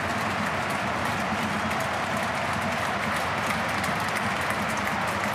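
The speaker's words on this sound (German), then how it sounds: "Und so hört sich's an, wenn das Stadion ausverkauft ist." A sold-out Rapid Vienna football stadium with more than 17,000 spectators gives off a dense, steady roar of cheering and chanting that stays loud and constant throughout.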